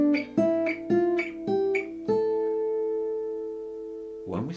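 Five plucked guitar notes step through a natural-note scale from A, evenly spaced, then the last one rings out and decays before a brief strum-like sound at the end.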